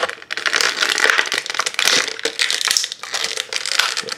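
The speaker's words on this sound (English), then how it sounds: "He's very difficult to get out of this packaging." A unicorn toy being pulled out of stiff, crinkly plastic blister packaging: loud, continuous crackling and crushing rustles close up, swelling in several bursts with no talking.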